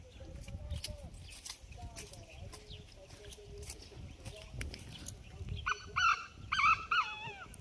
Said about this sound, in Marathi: फार्म हाऊसच्या इथे रान कोंबड्याचा आवाज येतो